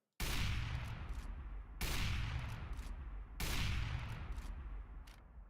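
Video game weapon fired in three long, sustained full-auto bursts with brief gaps between them, loud and close, with no talk over the shots.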